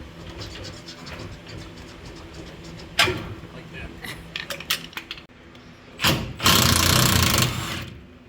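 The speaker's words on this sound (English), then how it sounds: "So now I should be able to just tap that bolt out" Metal tapping on a bolt in a van's coil-spring suspension: a sharp strike, a short cluster of lighter clinks, then a louder burst of rattling metal, all close by over faint background noise.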